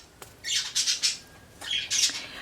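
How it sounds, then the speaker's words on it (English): Pet birds squawking indoors during a cold snap, a few harsh, shrill calls in two bursts, fairly close and moderately loud with no talking. "I'm sure you guys can hear the birds."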